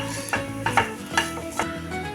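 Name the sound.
grated coconut being sautéed and stirred in a pan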